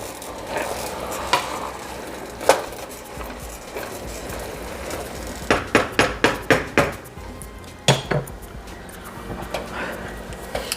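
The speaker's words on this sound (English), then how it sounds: "Give it another quick stir." Beef chili being stirred in a pot, with a steady low bubbling bed and a burst of rapid scraping, clinking strokes of a spoon against the pot, plus a few isolated knocks.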